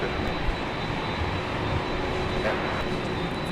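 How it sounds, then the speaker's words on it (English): A JetBlue Airbus A321 airliner takes off from LAX, a loud, steady broadband jet roar with a faint whine, sustained throughout with no talking. "From LAX to JFK goes this A321, and away they go."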